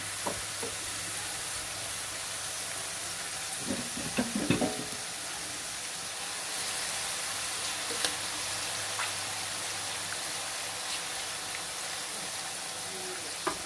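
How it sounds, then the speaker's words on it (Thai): Black lingzhi mushrooms fry over low heat with a soft, even hiss of oil, steady and moderately close, broken by a brief cluster of louder spatters or stirring knocks near the start. "เดี๋ยวเราไปทอดเลยจ้า อืมทอดไฟอ่อนนะคะค่อนอ่อนนะคะ"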